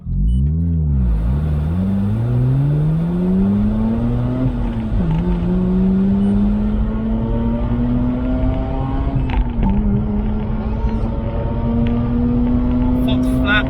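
A 231bhp Mazda RX-8 pulls hard in first gear: a loud, close engine note climbs steadily in pitch, with two brief dips where the revs catch before rising again.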